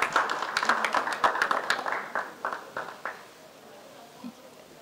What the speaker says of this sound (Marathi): जोरदार टाळ्या वाजवला पाहिजेत एव्हरीवन.